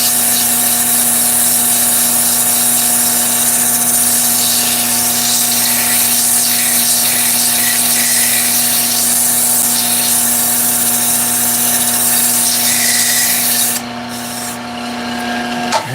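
Continuous sanding of a wood-turned bowling pin piece, a loud steady abrasive rub held close for about fourteen seconds before the sound drops and shifts near the end.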